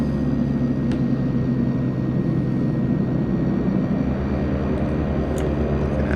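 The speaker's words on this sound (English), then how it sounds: "Right hand engine's up and running." The right-hand engine of a de Havilland Twin Otter turboprop in the Prepar3D flight simulator, running at a constant low, droning rumble with a steady even hum throughout and no voices.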